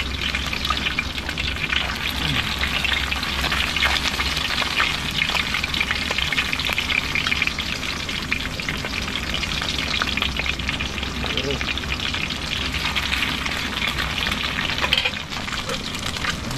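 Dried fish (daing) sizzles and crackles steadily in a hot pan of oil, a dense, continuous frying hiss that holds at the same loudness from start to finish with no talk over it.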